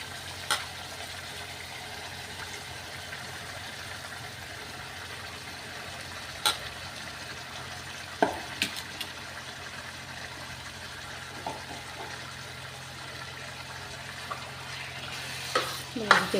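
Taro (arbi) and potatoes with spices being stirred in a pan create a low continuous sizzle with occasional faint scrapes and clicks of the spoon, quiet and steady throughout.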